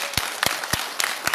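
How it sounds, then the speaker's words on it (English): A few scattered, separate hand claps ring out in a forum room as a round of applause for the speakers, sparse and fairly faint over quiet room tone. "Can you join me to give them a round of applause, please?"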